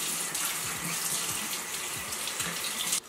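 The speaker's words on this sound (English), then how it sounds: "My booklet says to rinse these with cold water." Cold tap water runs steadily into a sink to rinse clear aligners (invisible braces), a close, continuous splashing rush that cuts off abruptly at the end.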